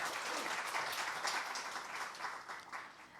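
Audience applause at a policy forum on industrial accident compensation insurance, a continuous medium-distance wave of many hands clapping that swells and gradually tapers toward the end.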